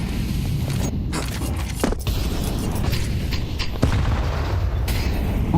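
Grenade detonation in a Counter-Strike esports match, a low boom amid continuous game noise, with a few sharp gunshots and footsteps around it.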